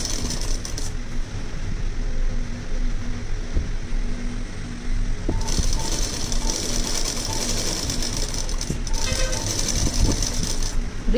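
A sewing machine stitching the edge of a lehenga, a steady fast mechanical whirring and clatter that runs almost throughout, dropping to a quieter hum in the middle before picking up again near and loud.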